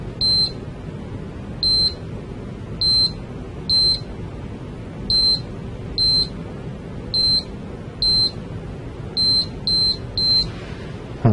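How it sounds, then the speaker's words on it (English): A series of short, sharp electronic beeps from a pachymeter taking eye measurements in a clinic, about a dozen, evenly spaced then quickening into a quick triple near the end, over a low steady hum. "just hear some beeping noises as we take the measurements"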